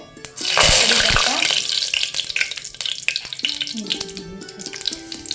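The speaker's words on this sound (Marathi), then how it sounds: "तेल टाकलेलं आहे जिरे मोहरी उडले जिरे मोहरी टाकले" Mustard and cumin seeds hit hot oil with a loud burst of sizzling and crackling that settles into popping and spattering, with utensil clinks nearby.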